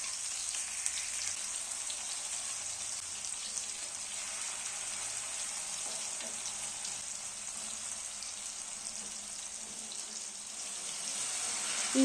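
Sliced tomatoes laid on a hot tawa griddle sizzle in a steady, even hiss that holds for the whole stretch, with no voices over it.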